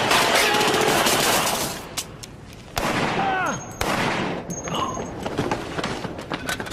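Gunfire erupts during a tense police confrontation around a van, with loud bursts of shots and clattering impacts over a dense, noisy scene, then sharper isolated cracks follow after a brief lull.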